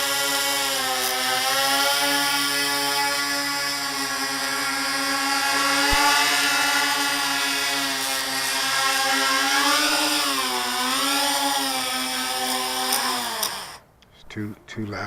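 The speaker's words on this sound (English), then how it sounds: "The ASAT 2300 kV motors on the XKX 350." High-pitched 2300 kV brushless drone motors on an XK X350 whir steadily with rich harmonic whine, rising and falling in pitch as they speed up and slow, before cutting off abruptly.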